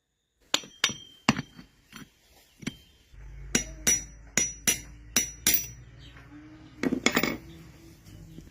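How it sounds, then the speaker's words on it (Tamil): Old grinder bearing tapped out with a small metal rod, producing a series of sharp metallic clinks and knocks, about a dozen irregular strikes, close and clear with quiet gaps between. "இப்போ பேரிங்கோட கீழ் பகுதியை மேல இருக்க ஓட்ட வழியா சின்னதா ஒரு கம்பியை வச்சு தட்டி எடுத்துடலாம்"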